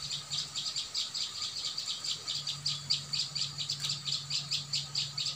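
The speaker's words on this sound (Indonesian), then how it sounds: "ini saya menemukan burung perenjak ini bukan untuk diambil ya" A prinia (prenjak lumut) calls steadily outdoors, a rapid train of sharp, high, evenly spaced chirps that runs right through, fairly clear over a faint background hum, with no talking.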